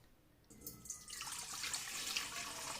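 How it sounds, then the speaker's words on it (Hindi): Water pours into the bowl of a dough kneading machine for a rusk recipe. A steady splashing pour starts after a brief quiet moment and runs continuously to the end, moderately close. "पहले हम डालेंगे इसमें पानी।"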